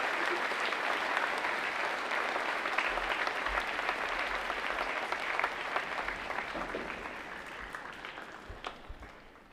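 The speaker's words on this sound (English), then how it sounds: "Let's give them all a round of applause." Audience applause at a Veterans Day program, a steady dense clapping from a large crowd that holds for the whole stretch and thins slightly toward the end.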